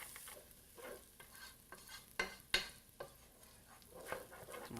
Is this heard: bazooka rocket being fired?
no